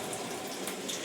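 Water pours into a pot while vegetable and lentil sambar is cooked, a soft, continuous splashing stream heard faintly and alone.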